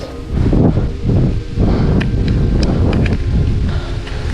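Strong, cold gusting wind roars and buffets the microphone continuously during a mountain bike climb, with a few faint clicks and taps breaking through the blustery rush.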